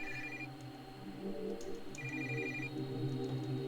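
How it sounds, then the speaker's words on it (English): Telephone ringing in the video game Feast Your Eyes, two short electronic trills spaced about a second and a half apart, faint against a low ambient background hum. "What is the phone ringing about?"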